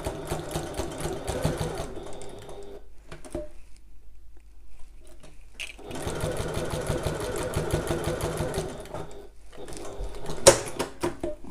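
A sewing machine stitches a quarter-inch seam on a messenger bag in two close, steady bursts of rapid mechanical patter, separated by a pause of near silence, with small handling clicks between runs.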